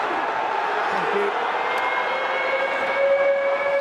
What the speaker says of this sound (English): Siren sounds for half-time.